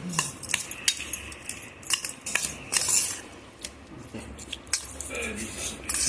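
A spoon stirring carrot and mango pickle in a metal dish, with repeated scraping and clinking strokes in an irregular rhythm, close and fairly clear, with occasional voices in the background.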